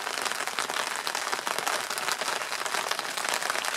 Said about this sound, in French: j'entends qu'il pleut de plus en plus